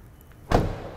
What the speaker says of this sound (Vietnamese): Tiếng đóng cửa của mình vừa rồi là rất là chắc chắn.